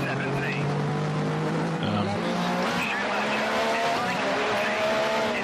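A heavy old Formula 1 car in the racing game F1 Challenge 99-02, 1988 Adelaide, engine droning and shifting pitch as it slides with tire squeal, close, under steady talk.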